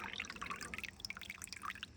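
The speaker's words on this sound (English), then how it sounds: "Since the machine is sitting down lower than the spout, only a little bit of water comes out." Water dripping from the filter chamber of a machine sitting lower than its spout, only a small amount escaping: faint, irregular light drips and trickles close by with no talking.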